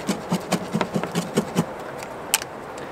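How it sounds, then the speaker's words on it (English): A knife chops lemon peel finely on a camp cutting board, giving a quick run of about eight soft, close taps followed by a sharper single knock. "I'm just going to cut some off and chop it up finely"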